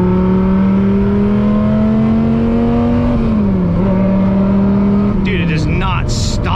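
A 1999 Hennessey Viper ACR accelerates hard, its loud engine note climbing steadily through the gears with a brief dip at a shift, heard from inside the car.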